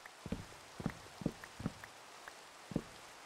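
Rain in the video game Minecraft, patchy and faint, with several soft thudding taps spaced irregularly over a light hiss.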